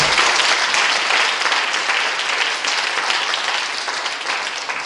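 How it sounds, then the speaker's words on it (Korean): A church congregation at a patriotic Christian youth gathering gives loud, sustained applause, a dense wash of many hands clapping continuously throughout. "박수 한번 다."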